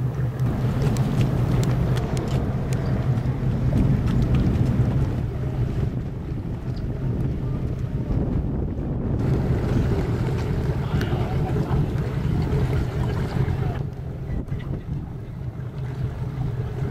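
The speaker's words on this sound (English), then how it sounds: "Here we are with the 34 Cruisers going out for a little spin on the water" A Cruisers Yachts 340 Express, powered by twin 8.1 MerCruiser engines, cruises across open water. A steady low engine drone runs under heavy wind buffeting and the rush of water, with brief lulls in the wind.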